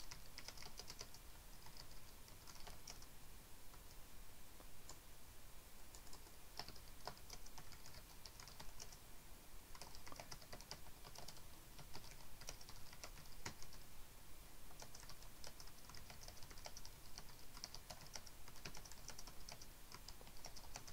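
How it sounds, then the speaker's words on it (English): Steady typing on a computer keyboard, continuous rapid key clicks at a quiet, close level with no voices. "start typing"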